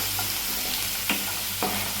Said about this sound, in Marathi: हळद थोडी टाकून द्यायची, त्याला बी चांगला हलवून घ्यायचं।